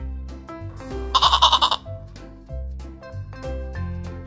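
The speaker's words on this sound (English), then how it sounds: "Goat." A goat gives a short, loud, wavering bleat with a quick tremolo, set against background music.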